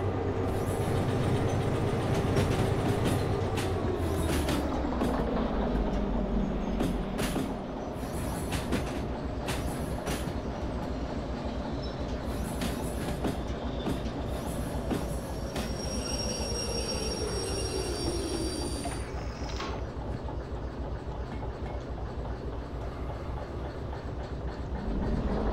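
A train rolls along rails in the Derail Valley simulator, a steady loud rumble with wheel squeal and clattering rail joints throughout, no voices.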